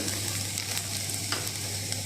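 Onion fries in a pan until golden, giving a steady, close sizzle broken by a few soft stirring scrapes, with no talking.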